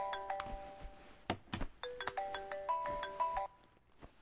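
A mobile phone plays a bright melodic ringtone of quick chiming notes that repeat for about three seconds, fairly faint, with a few soft knocks and no speech.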